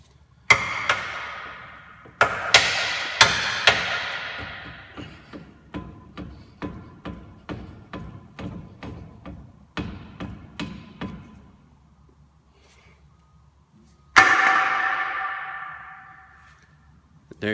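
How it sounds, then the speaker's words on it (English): Metal hammer blows driving a ball joint stud out of a steering knuckle on a Ford Escape or Mazda Tribute, a run of sharp ringing strikes, some heavy, many lighter and rapid, then one last loud hit. "drop the ball joint stud out of the steering knuckle"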